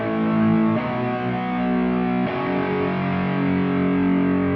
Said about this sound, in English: I was going for the distorted sound with movement, so I added a guitar rig with some distortion and flanger to have that movement on top.